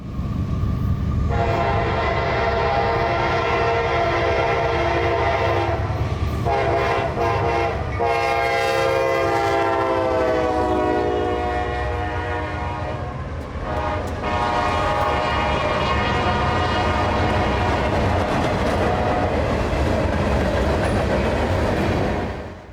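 A loud mixed freight train rumbles close by through Folkston, Georgia on a double-track main line, its horn blaring in long sustained blasts over the steady roll and clatter of passing freight cars.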